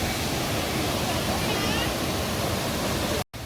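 Loud, roaring waterfall at Mahabaleshwar, a dense, steady wash of falling water filling the whole clip up close, with a brief dropout near the end.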